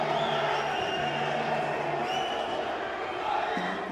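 A football stadium crowd at a Kings World Cup Nations match with Morocco supporters, reacting to a disputed foul call with a sustained, loud roar and whistling that fills the whole stretch.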